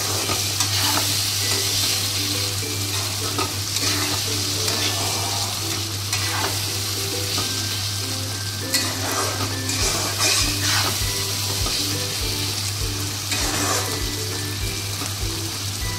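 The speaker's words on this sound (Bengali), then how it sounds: "এইটা কষিয়ে নেব ভালো করে।" Liver being stir-fried in oily spice paste for a meat curry, a continuous loud sizzle with scraping and stirring strokes of a spatula against the pan, steady throughout with no talk.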